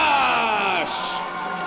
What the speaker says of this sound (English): as you can hear the crowd, they are going nuts for one Cameron McIntosh